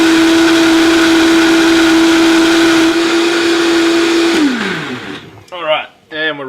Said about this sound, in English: Put the lid on top and blend for a couple of minutes